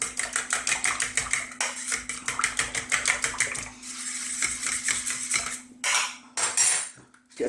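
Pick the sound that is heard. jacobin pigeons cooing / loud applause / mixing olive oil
mixing olive oil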